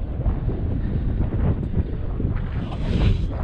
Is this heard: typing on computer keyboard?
no